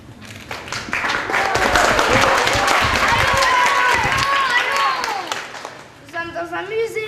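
Audience applause at a stage show in a museum fills the room with dense, loud clapping that swells and fades over several seconds before voices take over near the end.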